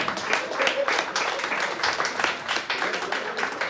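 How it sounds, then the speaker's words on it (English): An audience at a comedy game show in a New York club claps for a contestant, brisk lively applause from a packed room with cheering voices mixed in, loud throughout the short burst. "Clap it up for Darryl."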